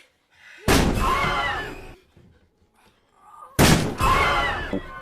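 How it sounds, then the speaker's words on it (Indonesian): A door in a film is rammed hard as someone tries to break it down: two heavy, booming impacts a few seconds apart, each followed by a long rumbling, rattling decay, loud and close with no speech. "Psikopat itu pun berusaha untuk mendobrak pintu."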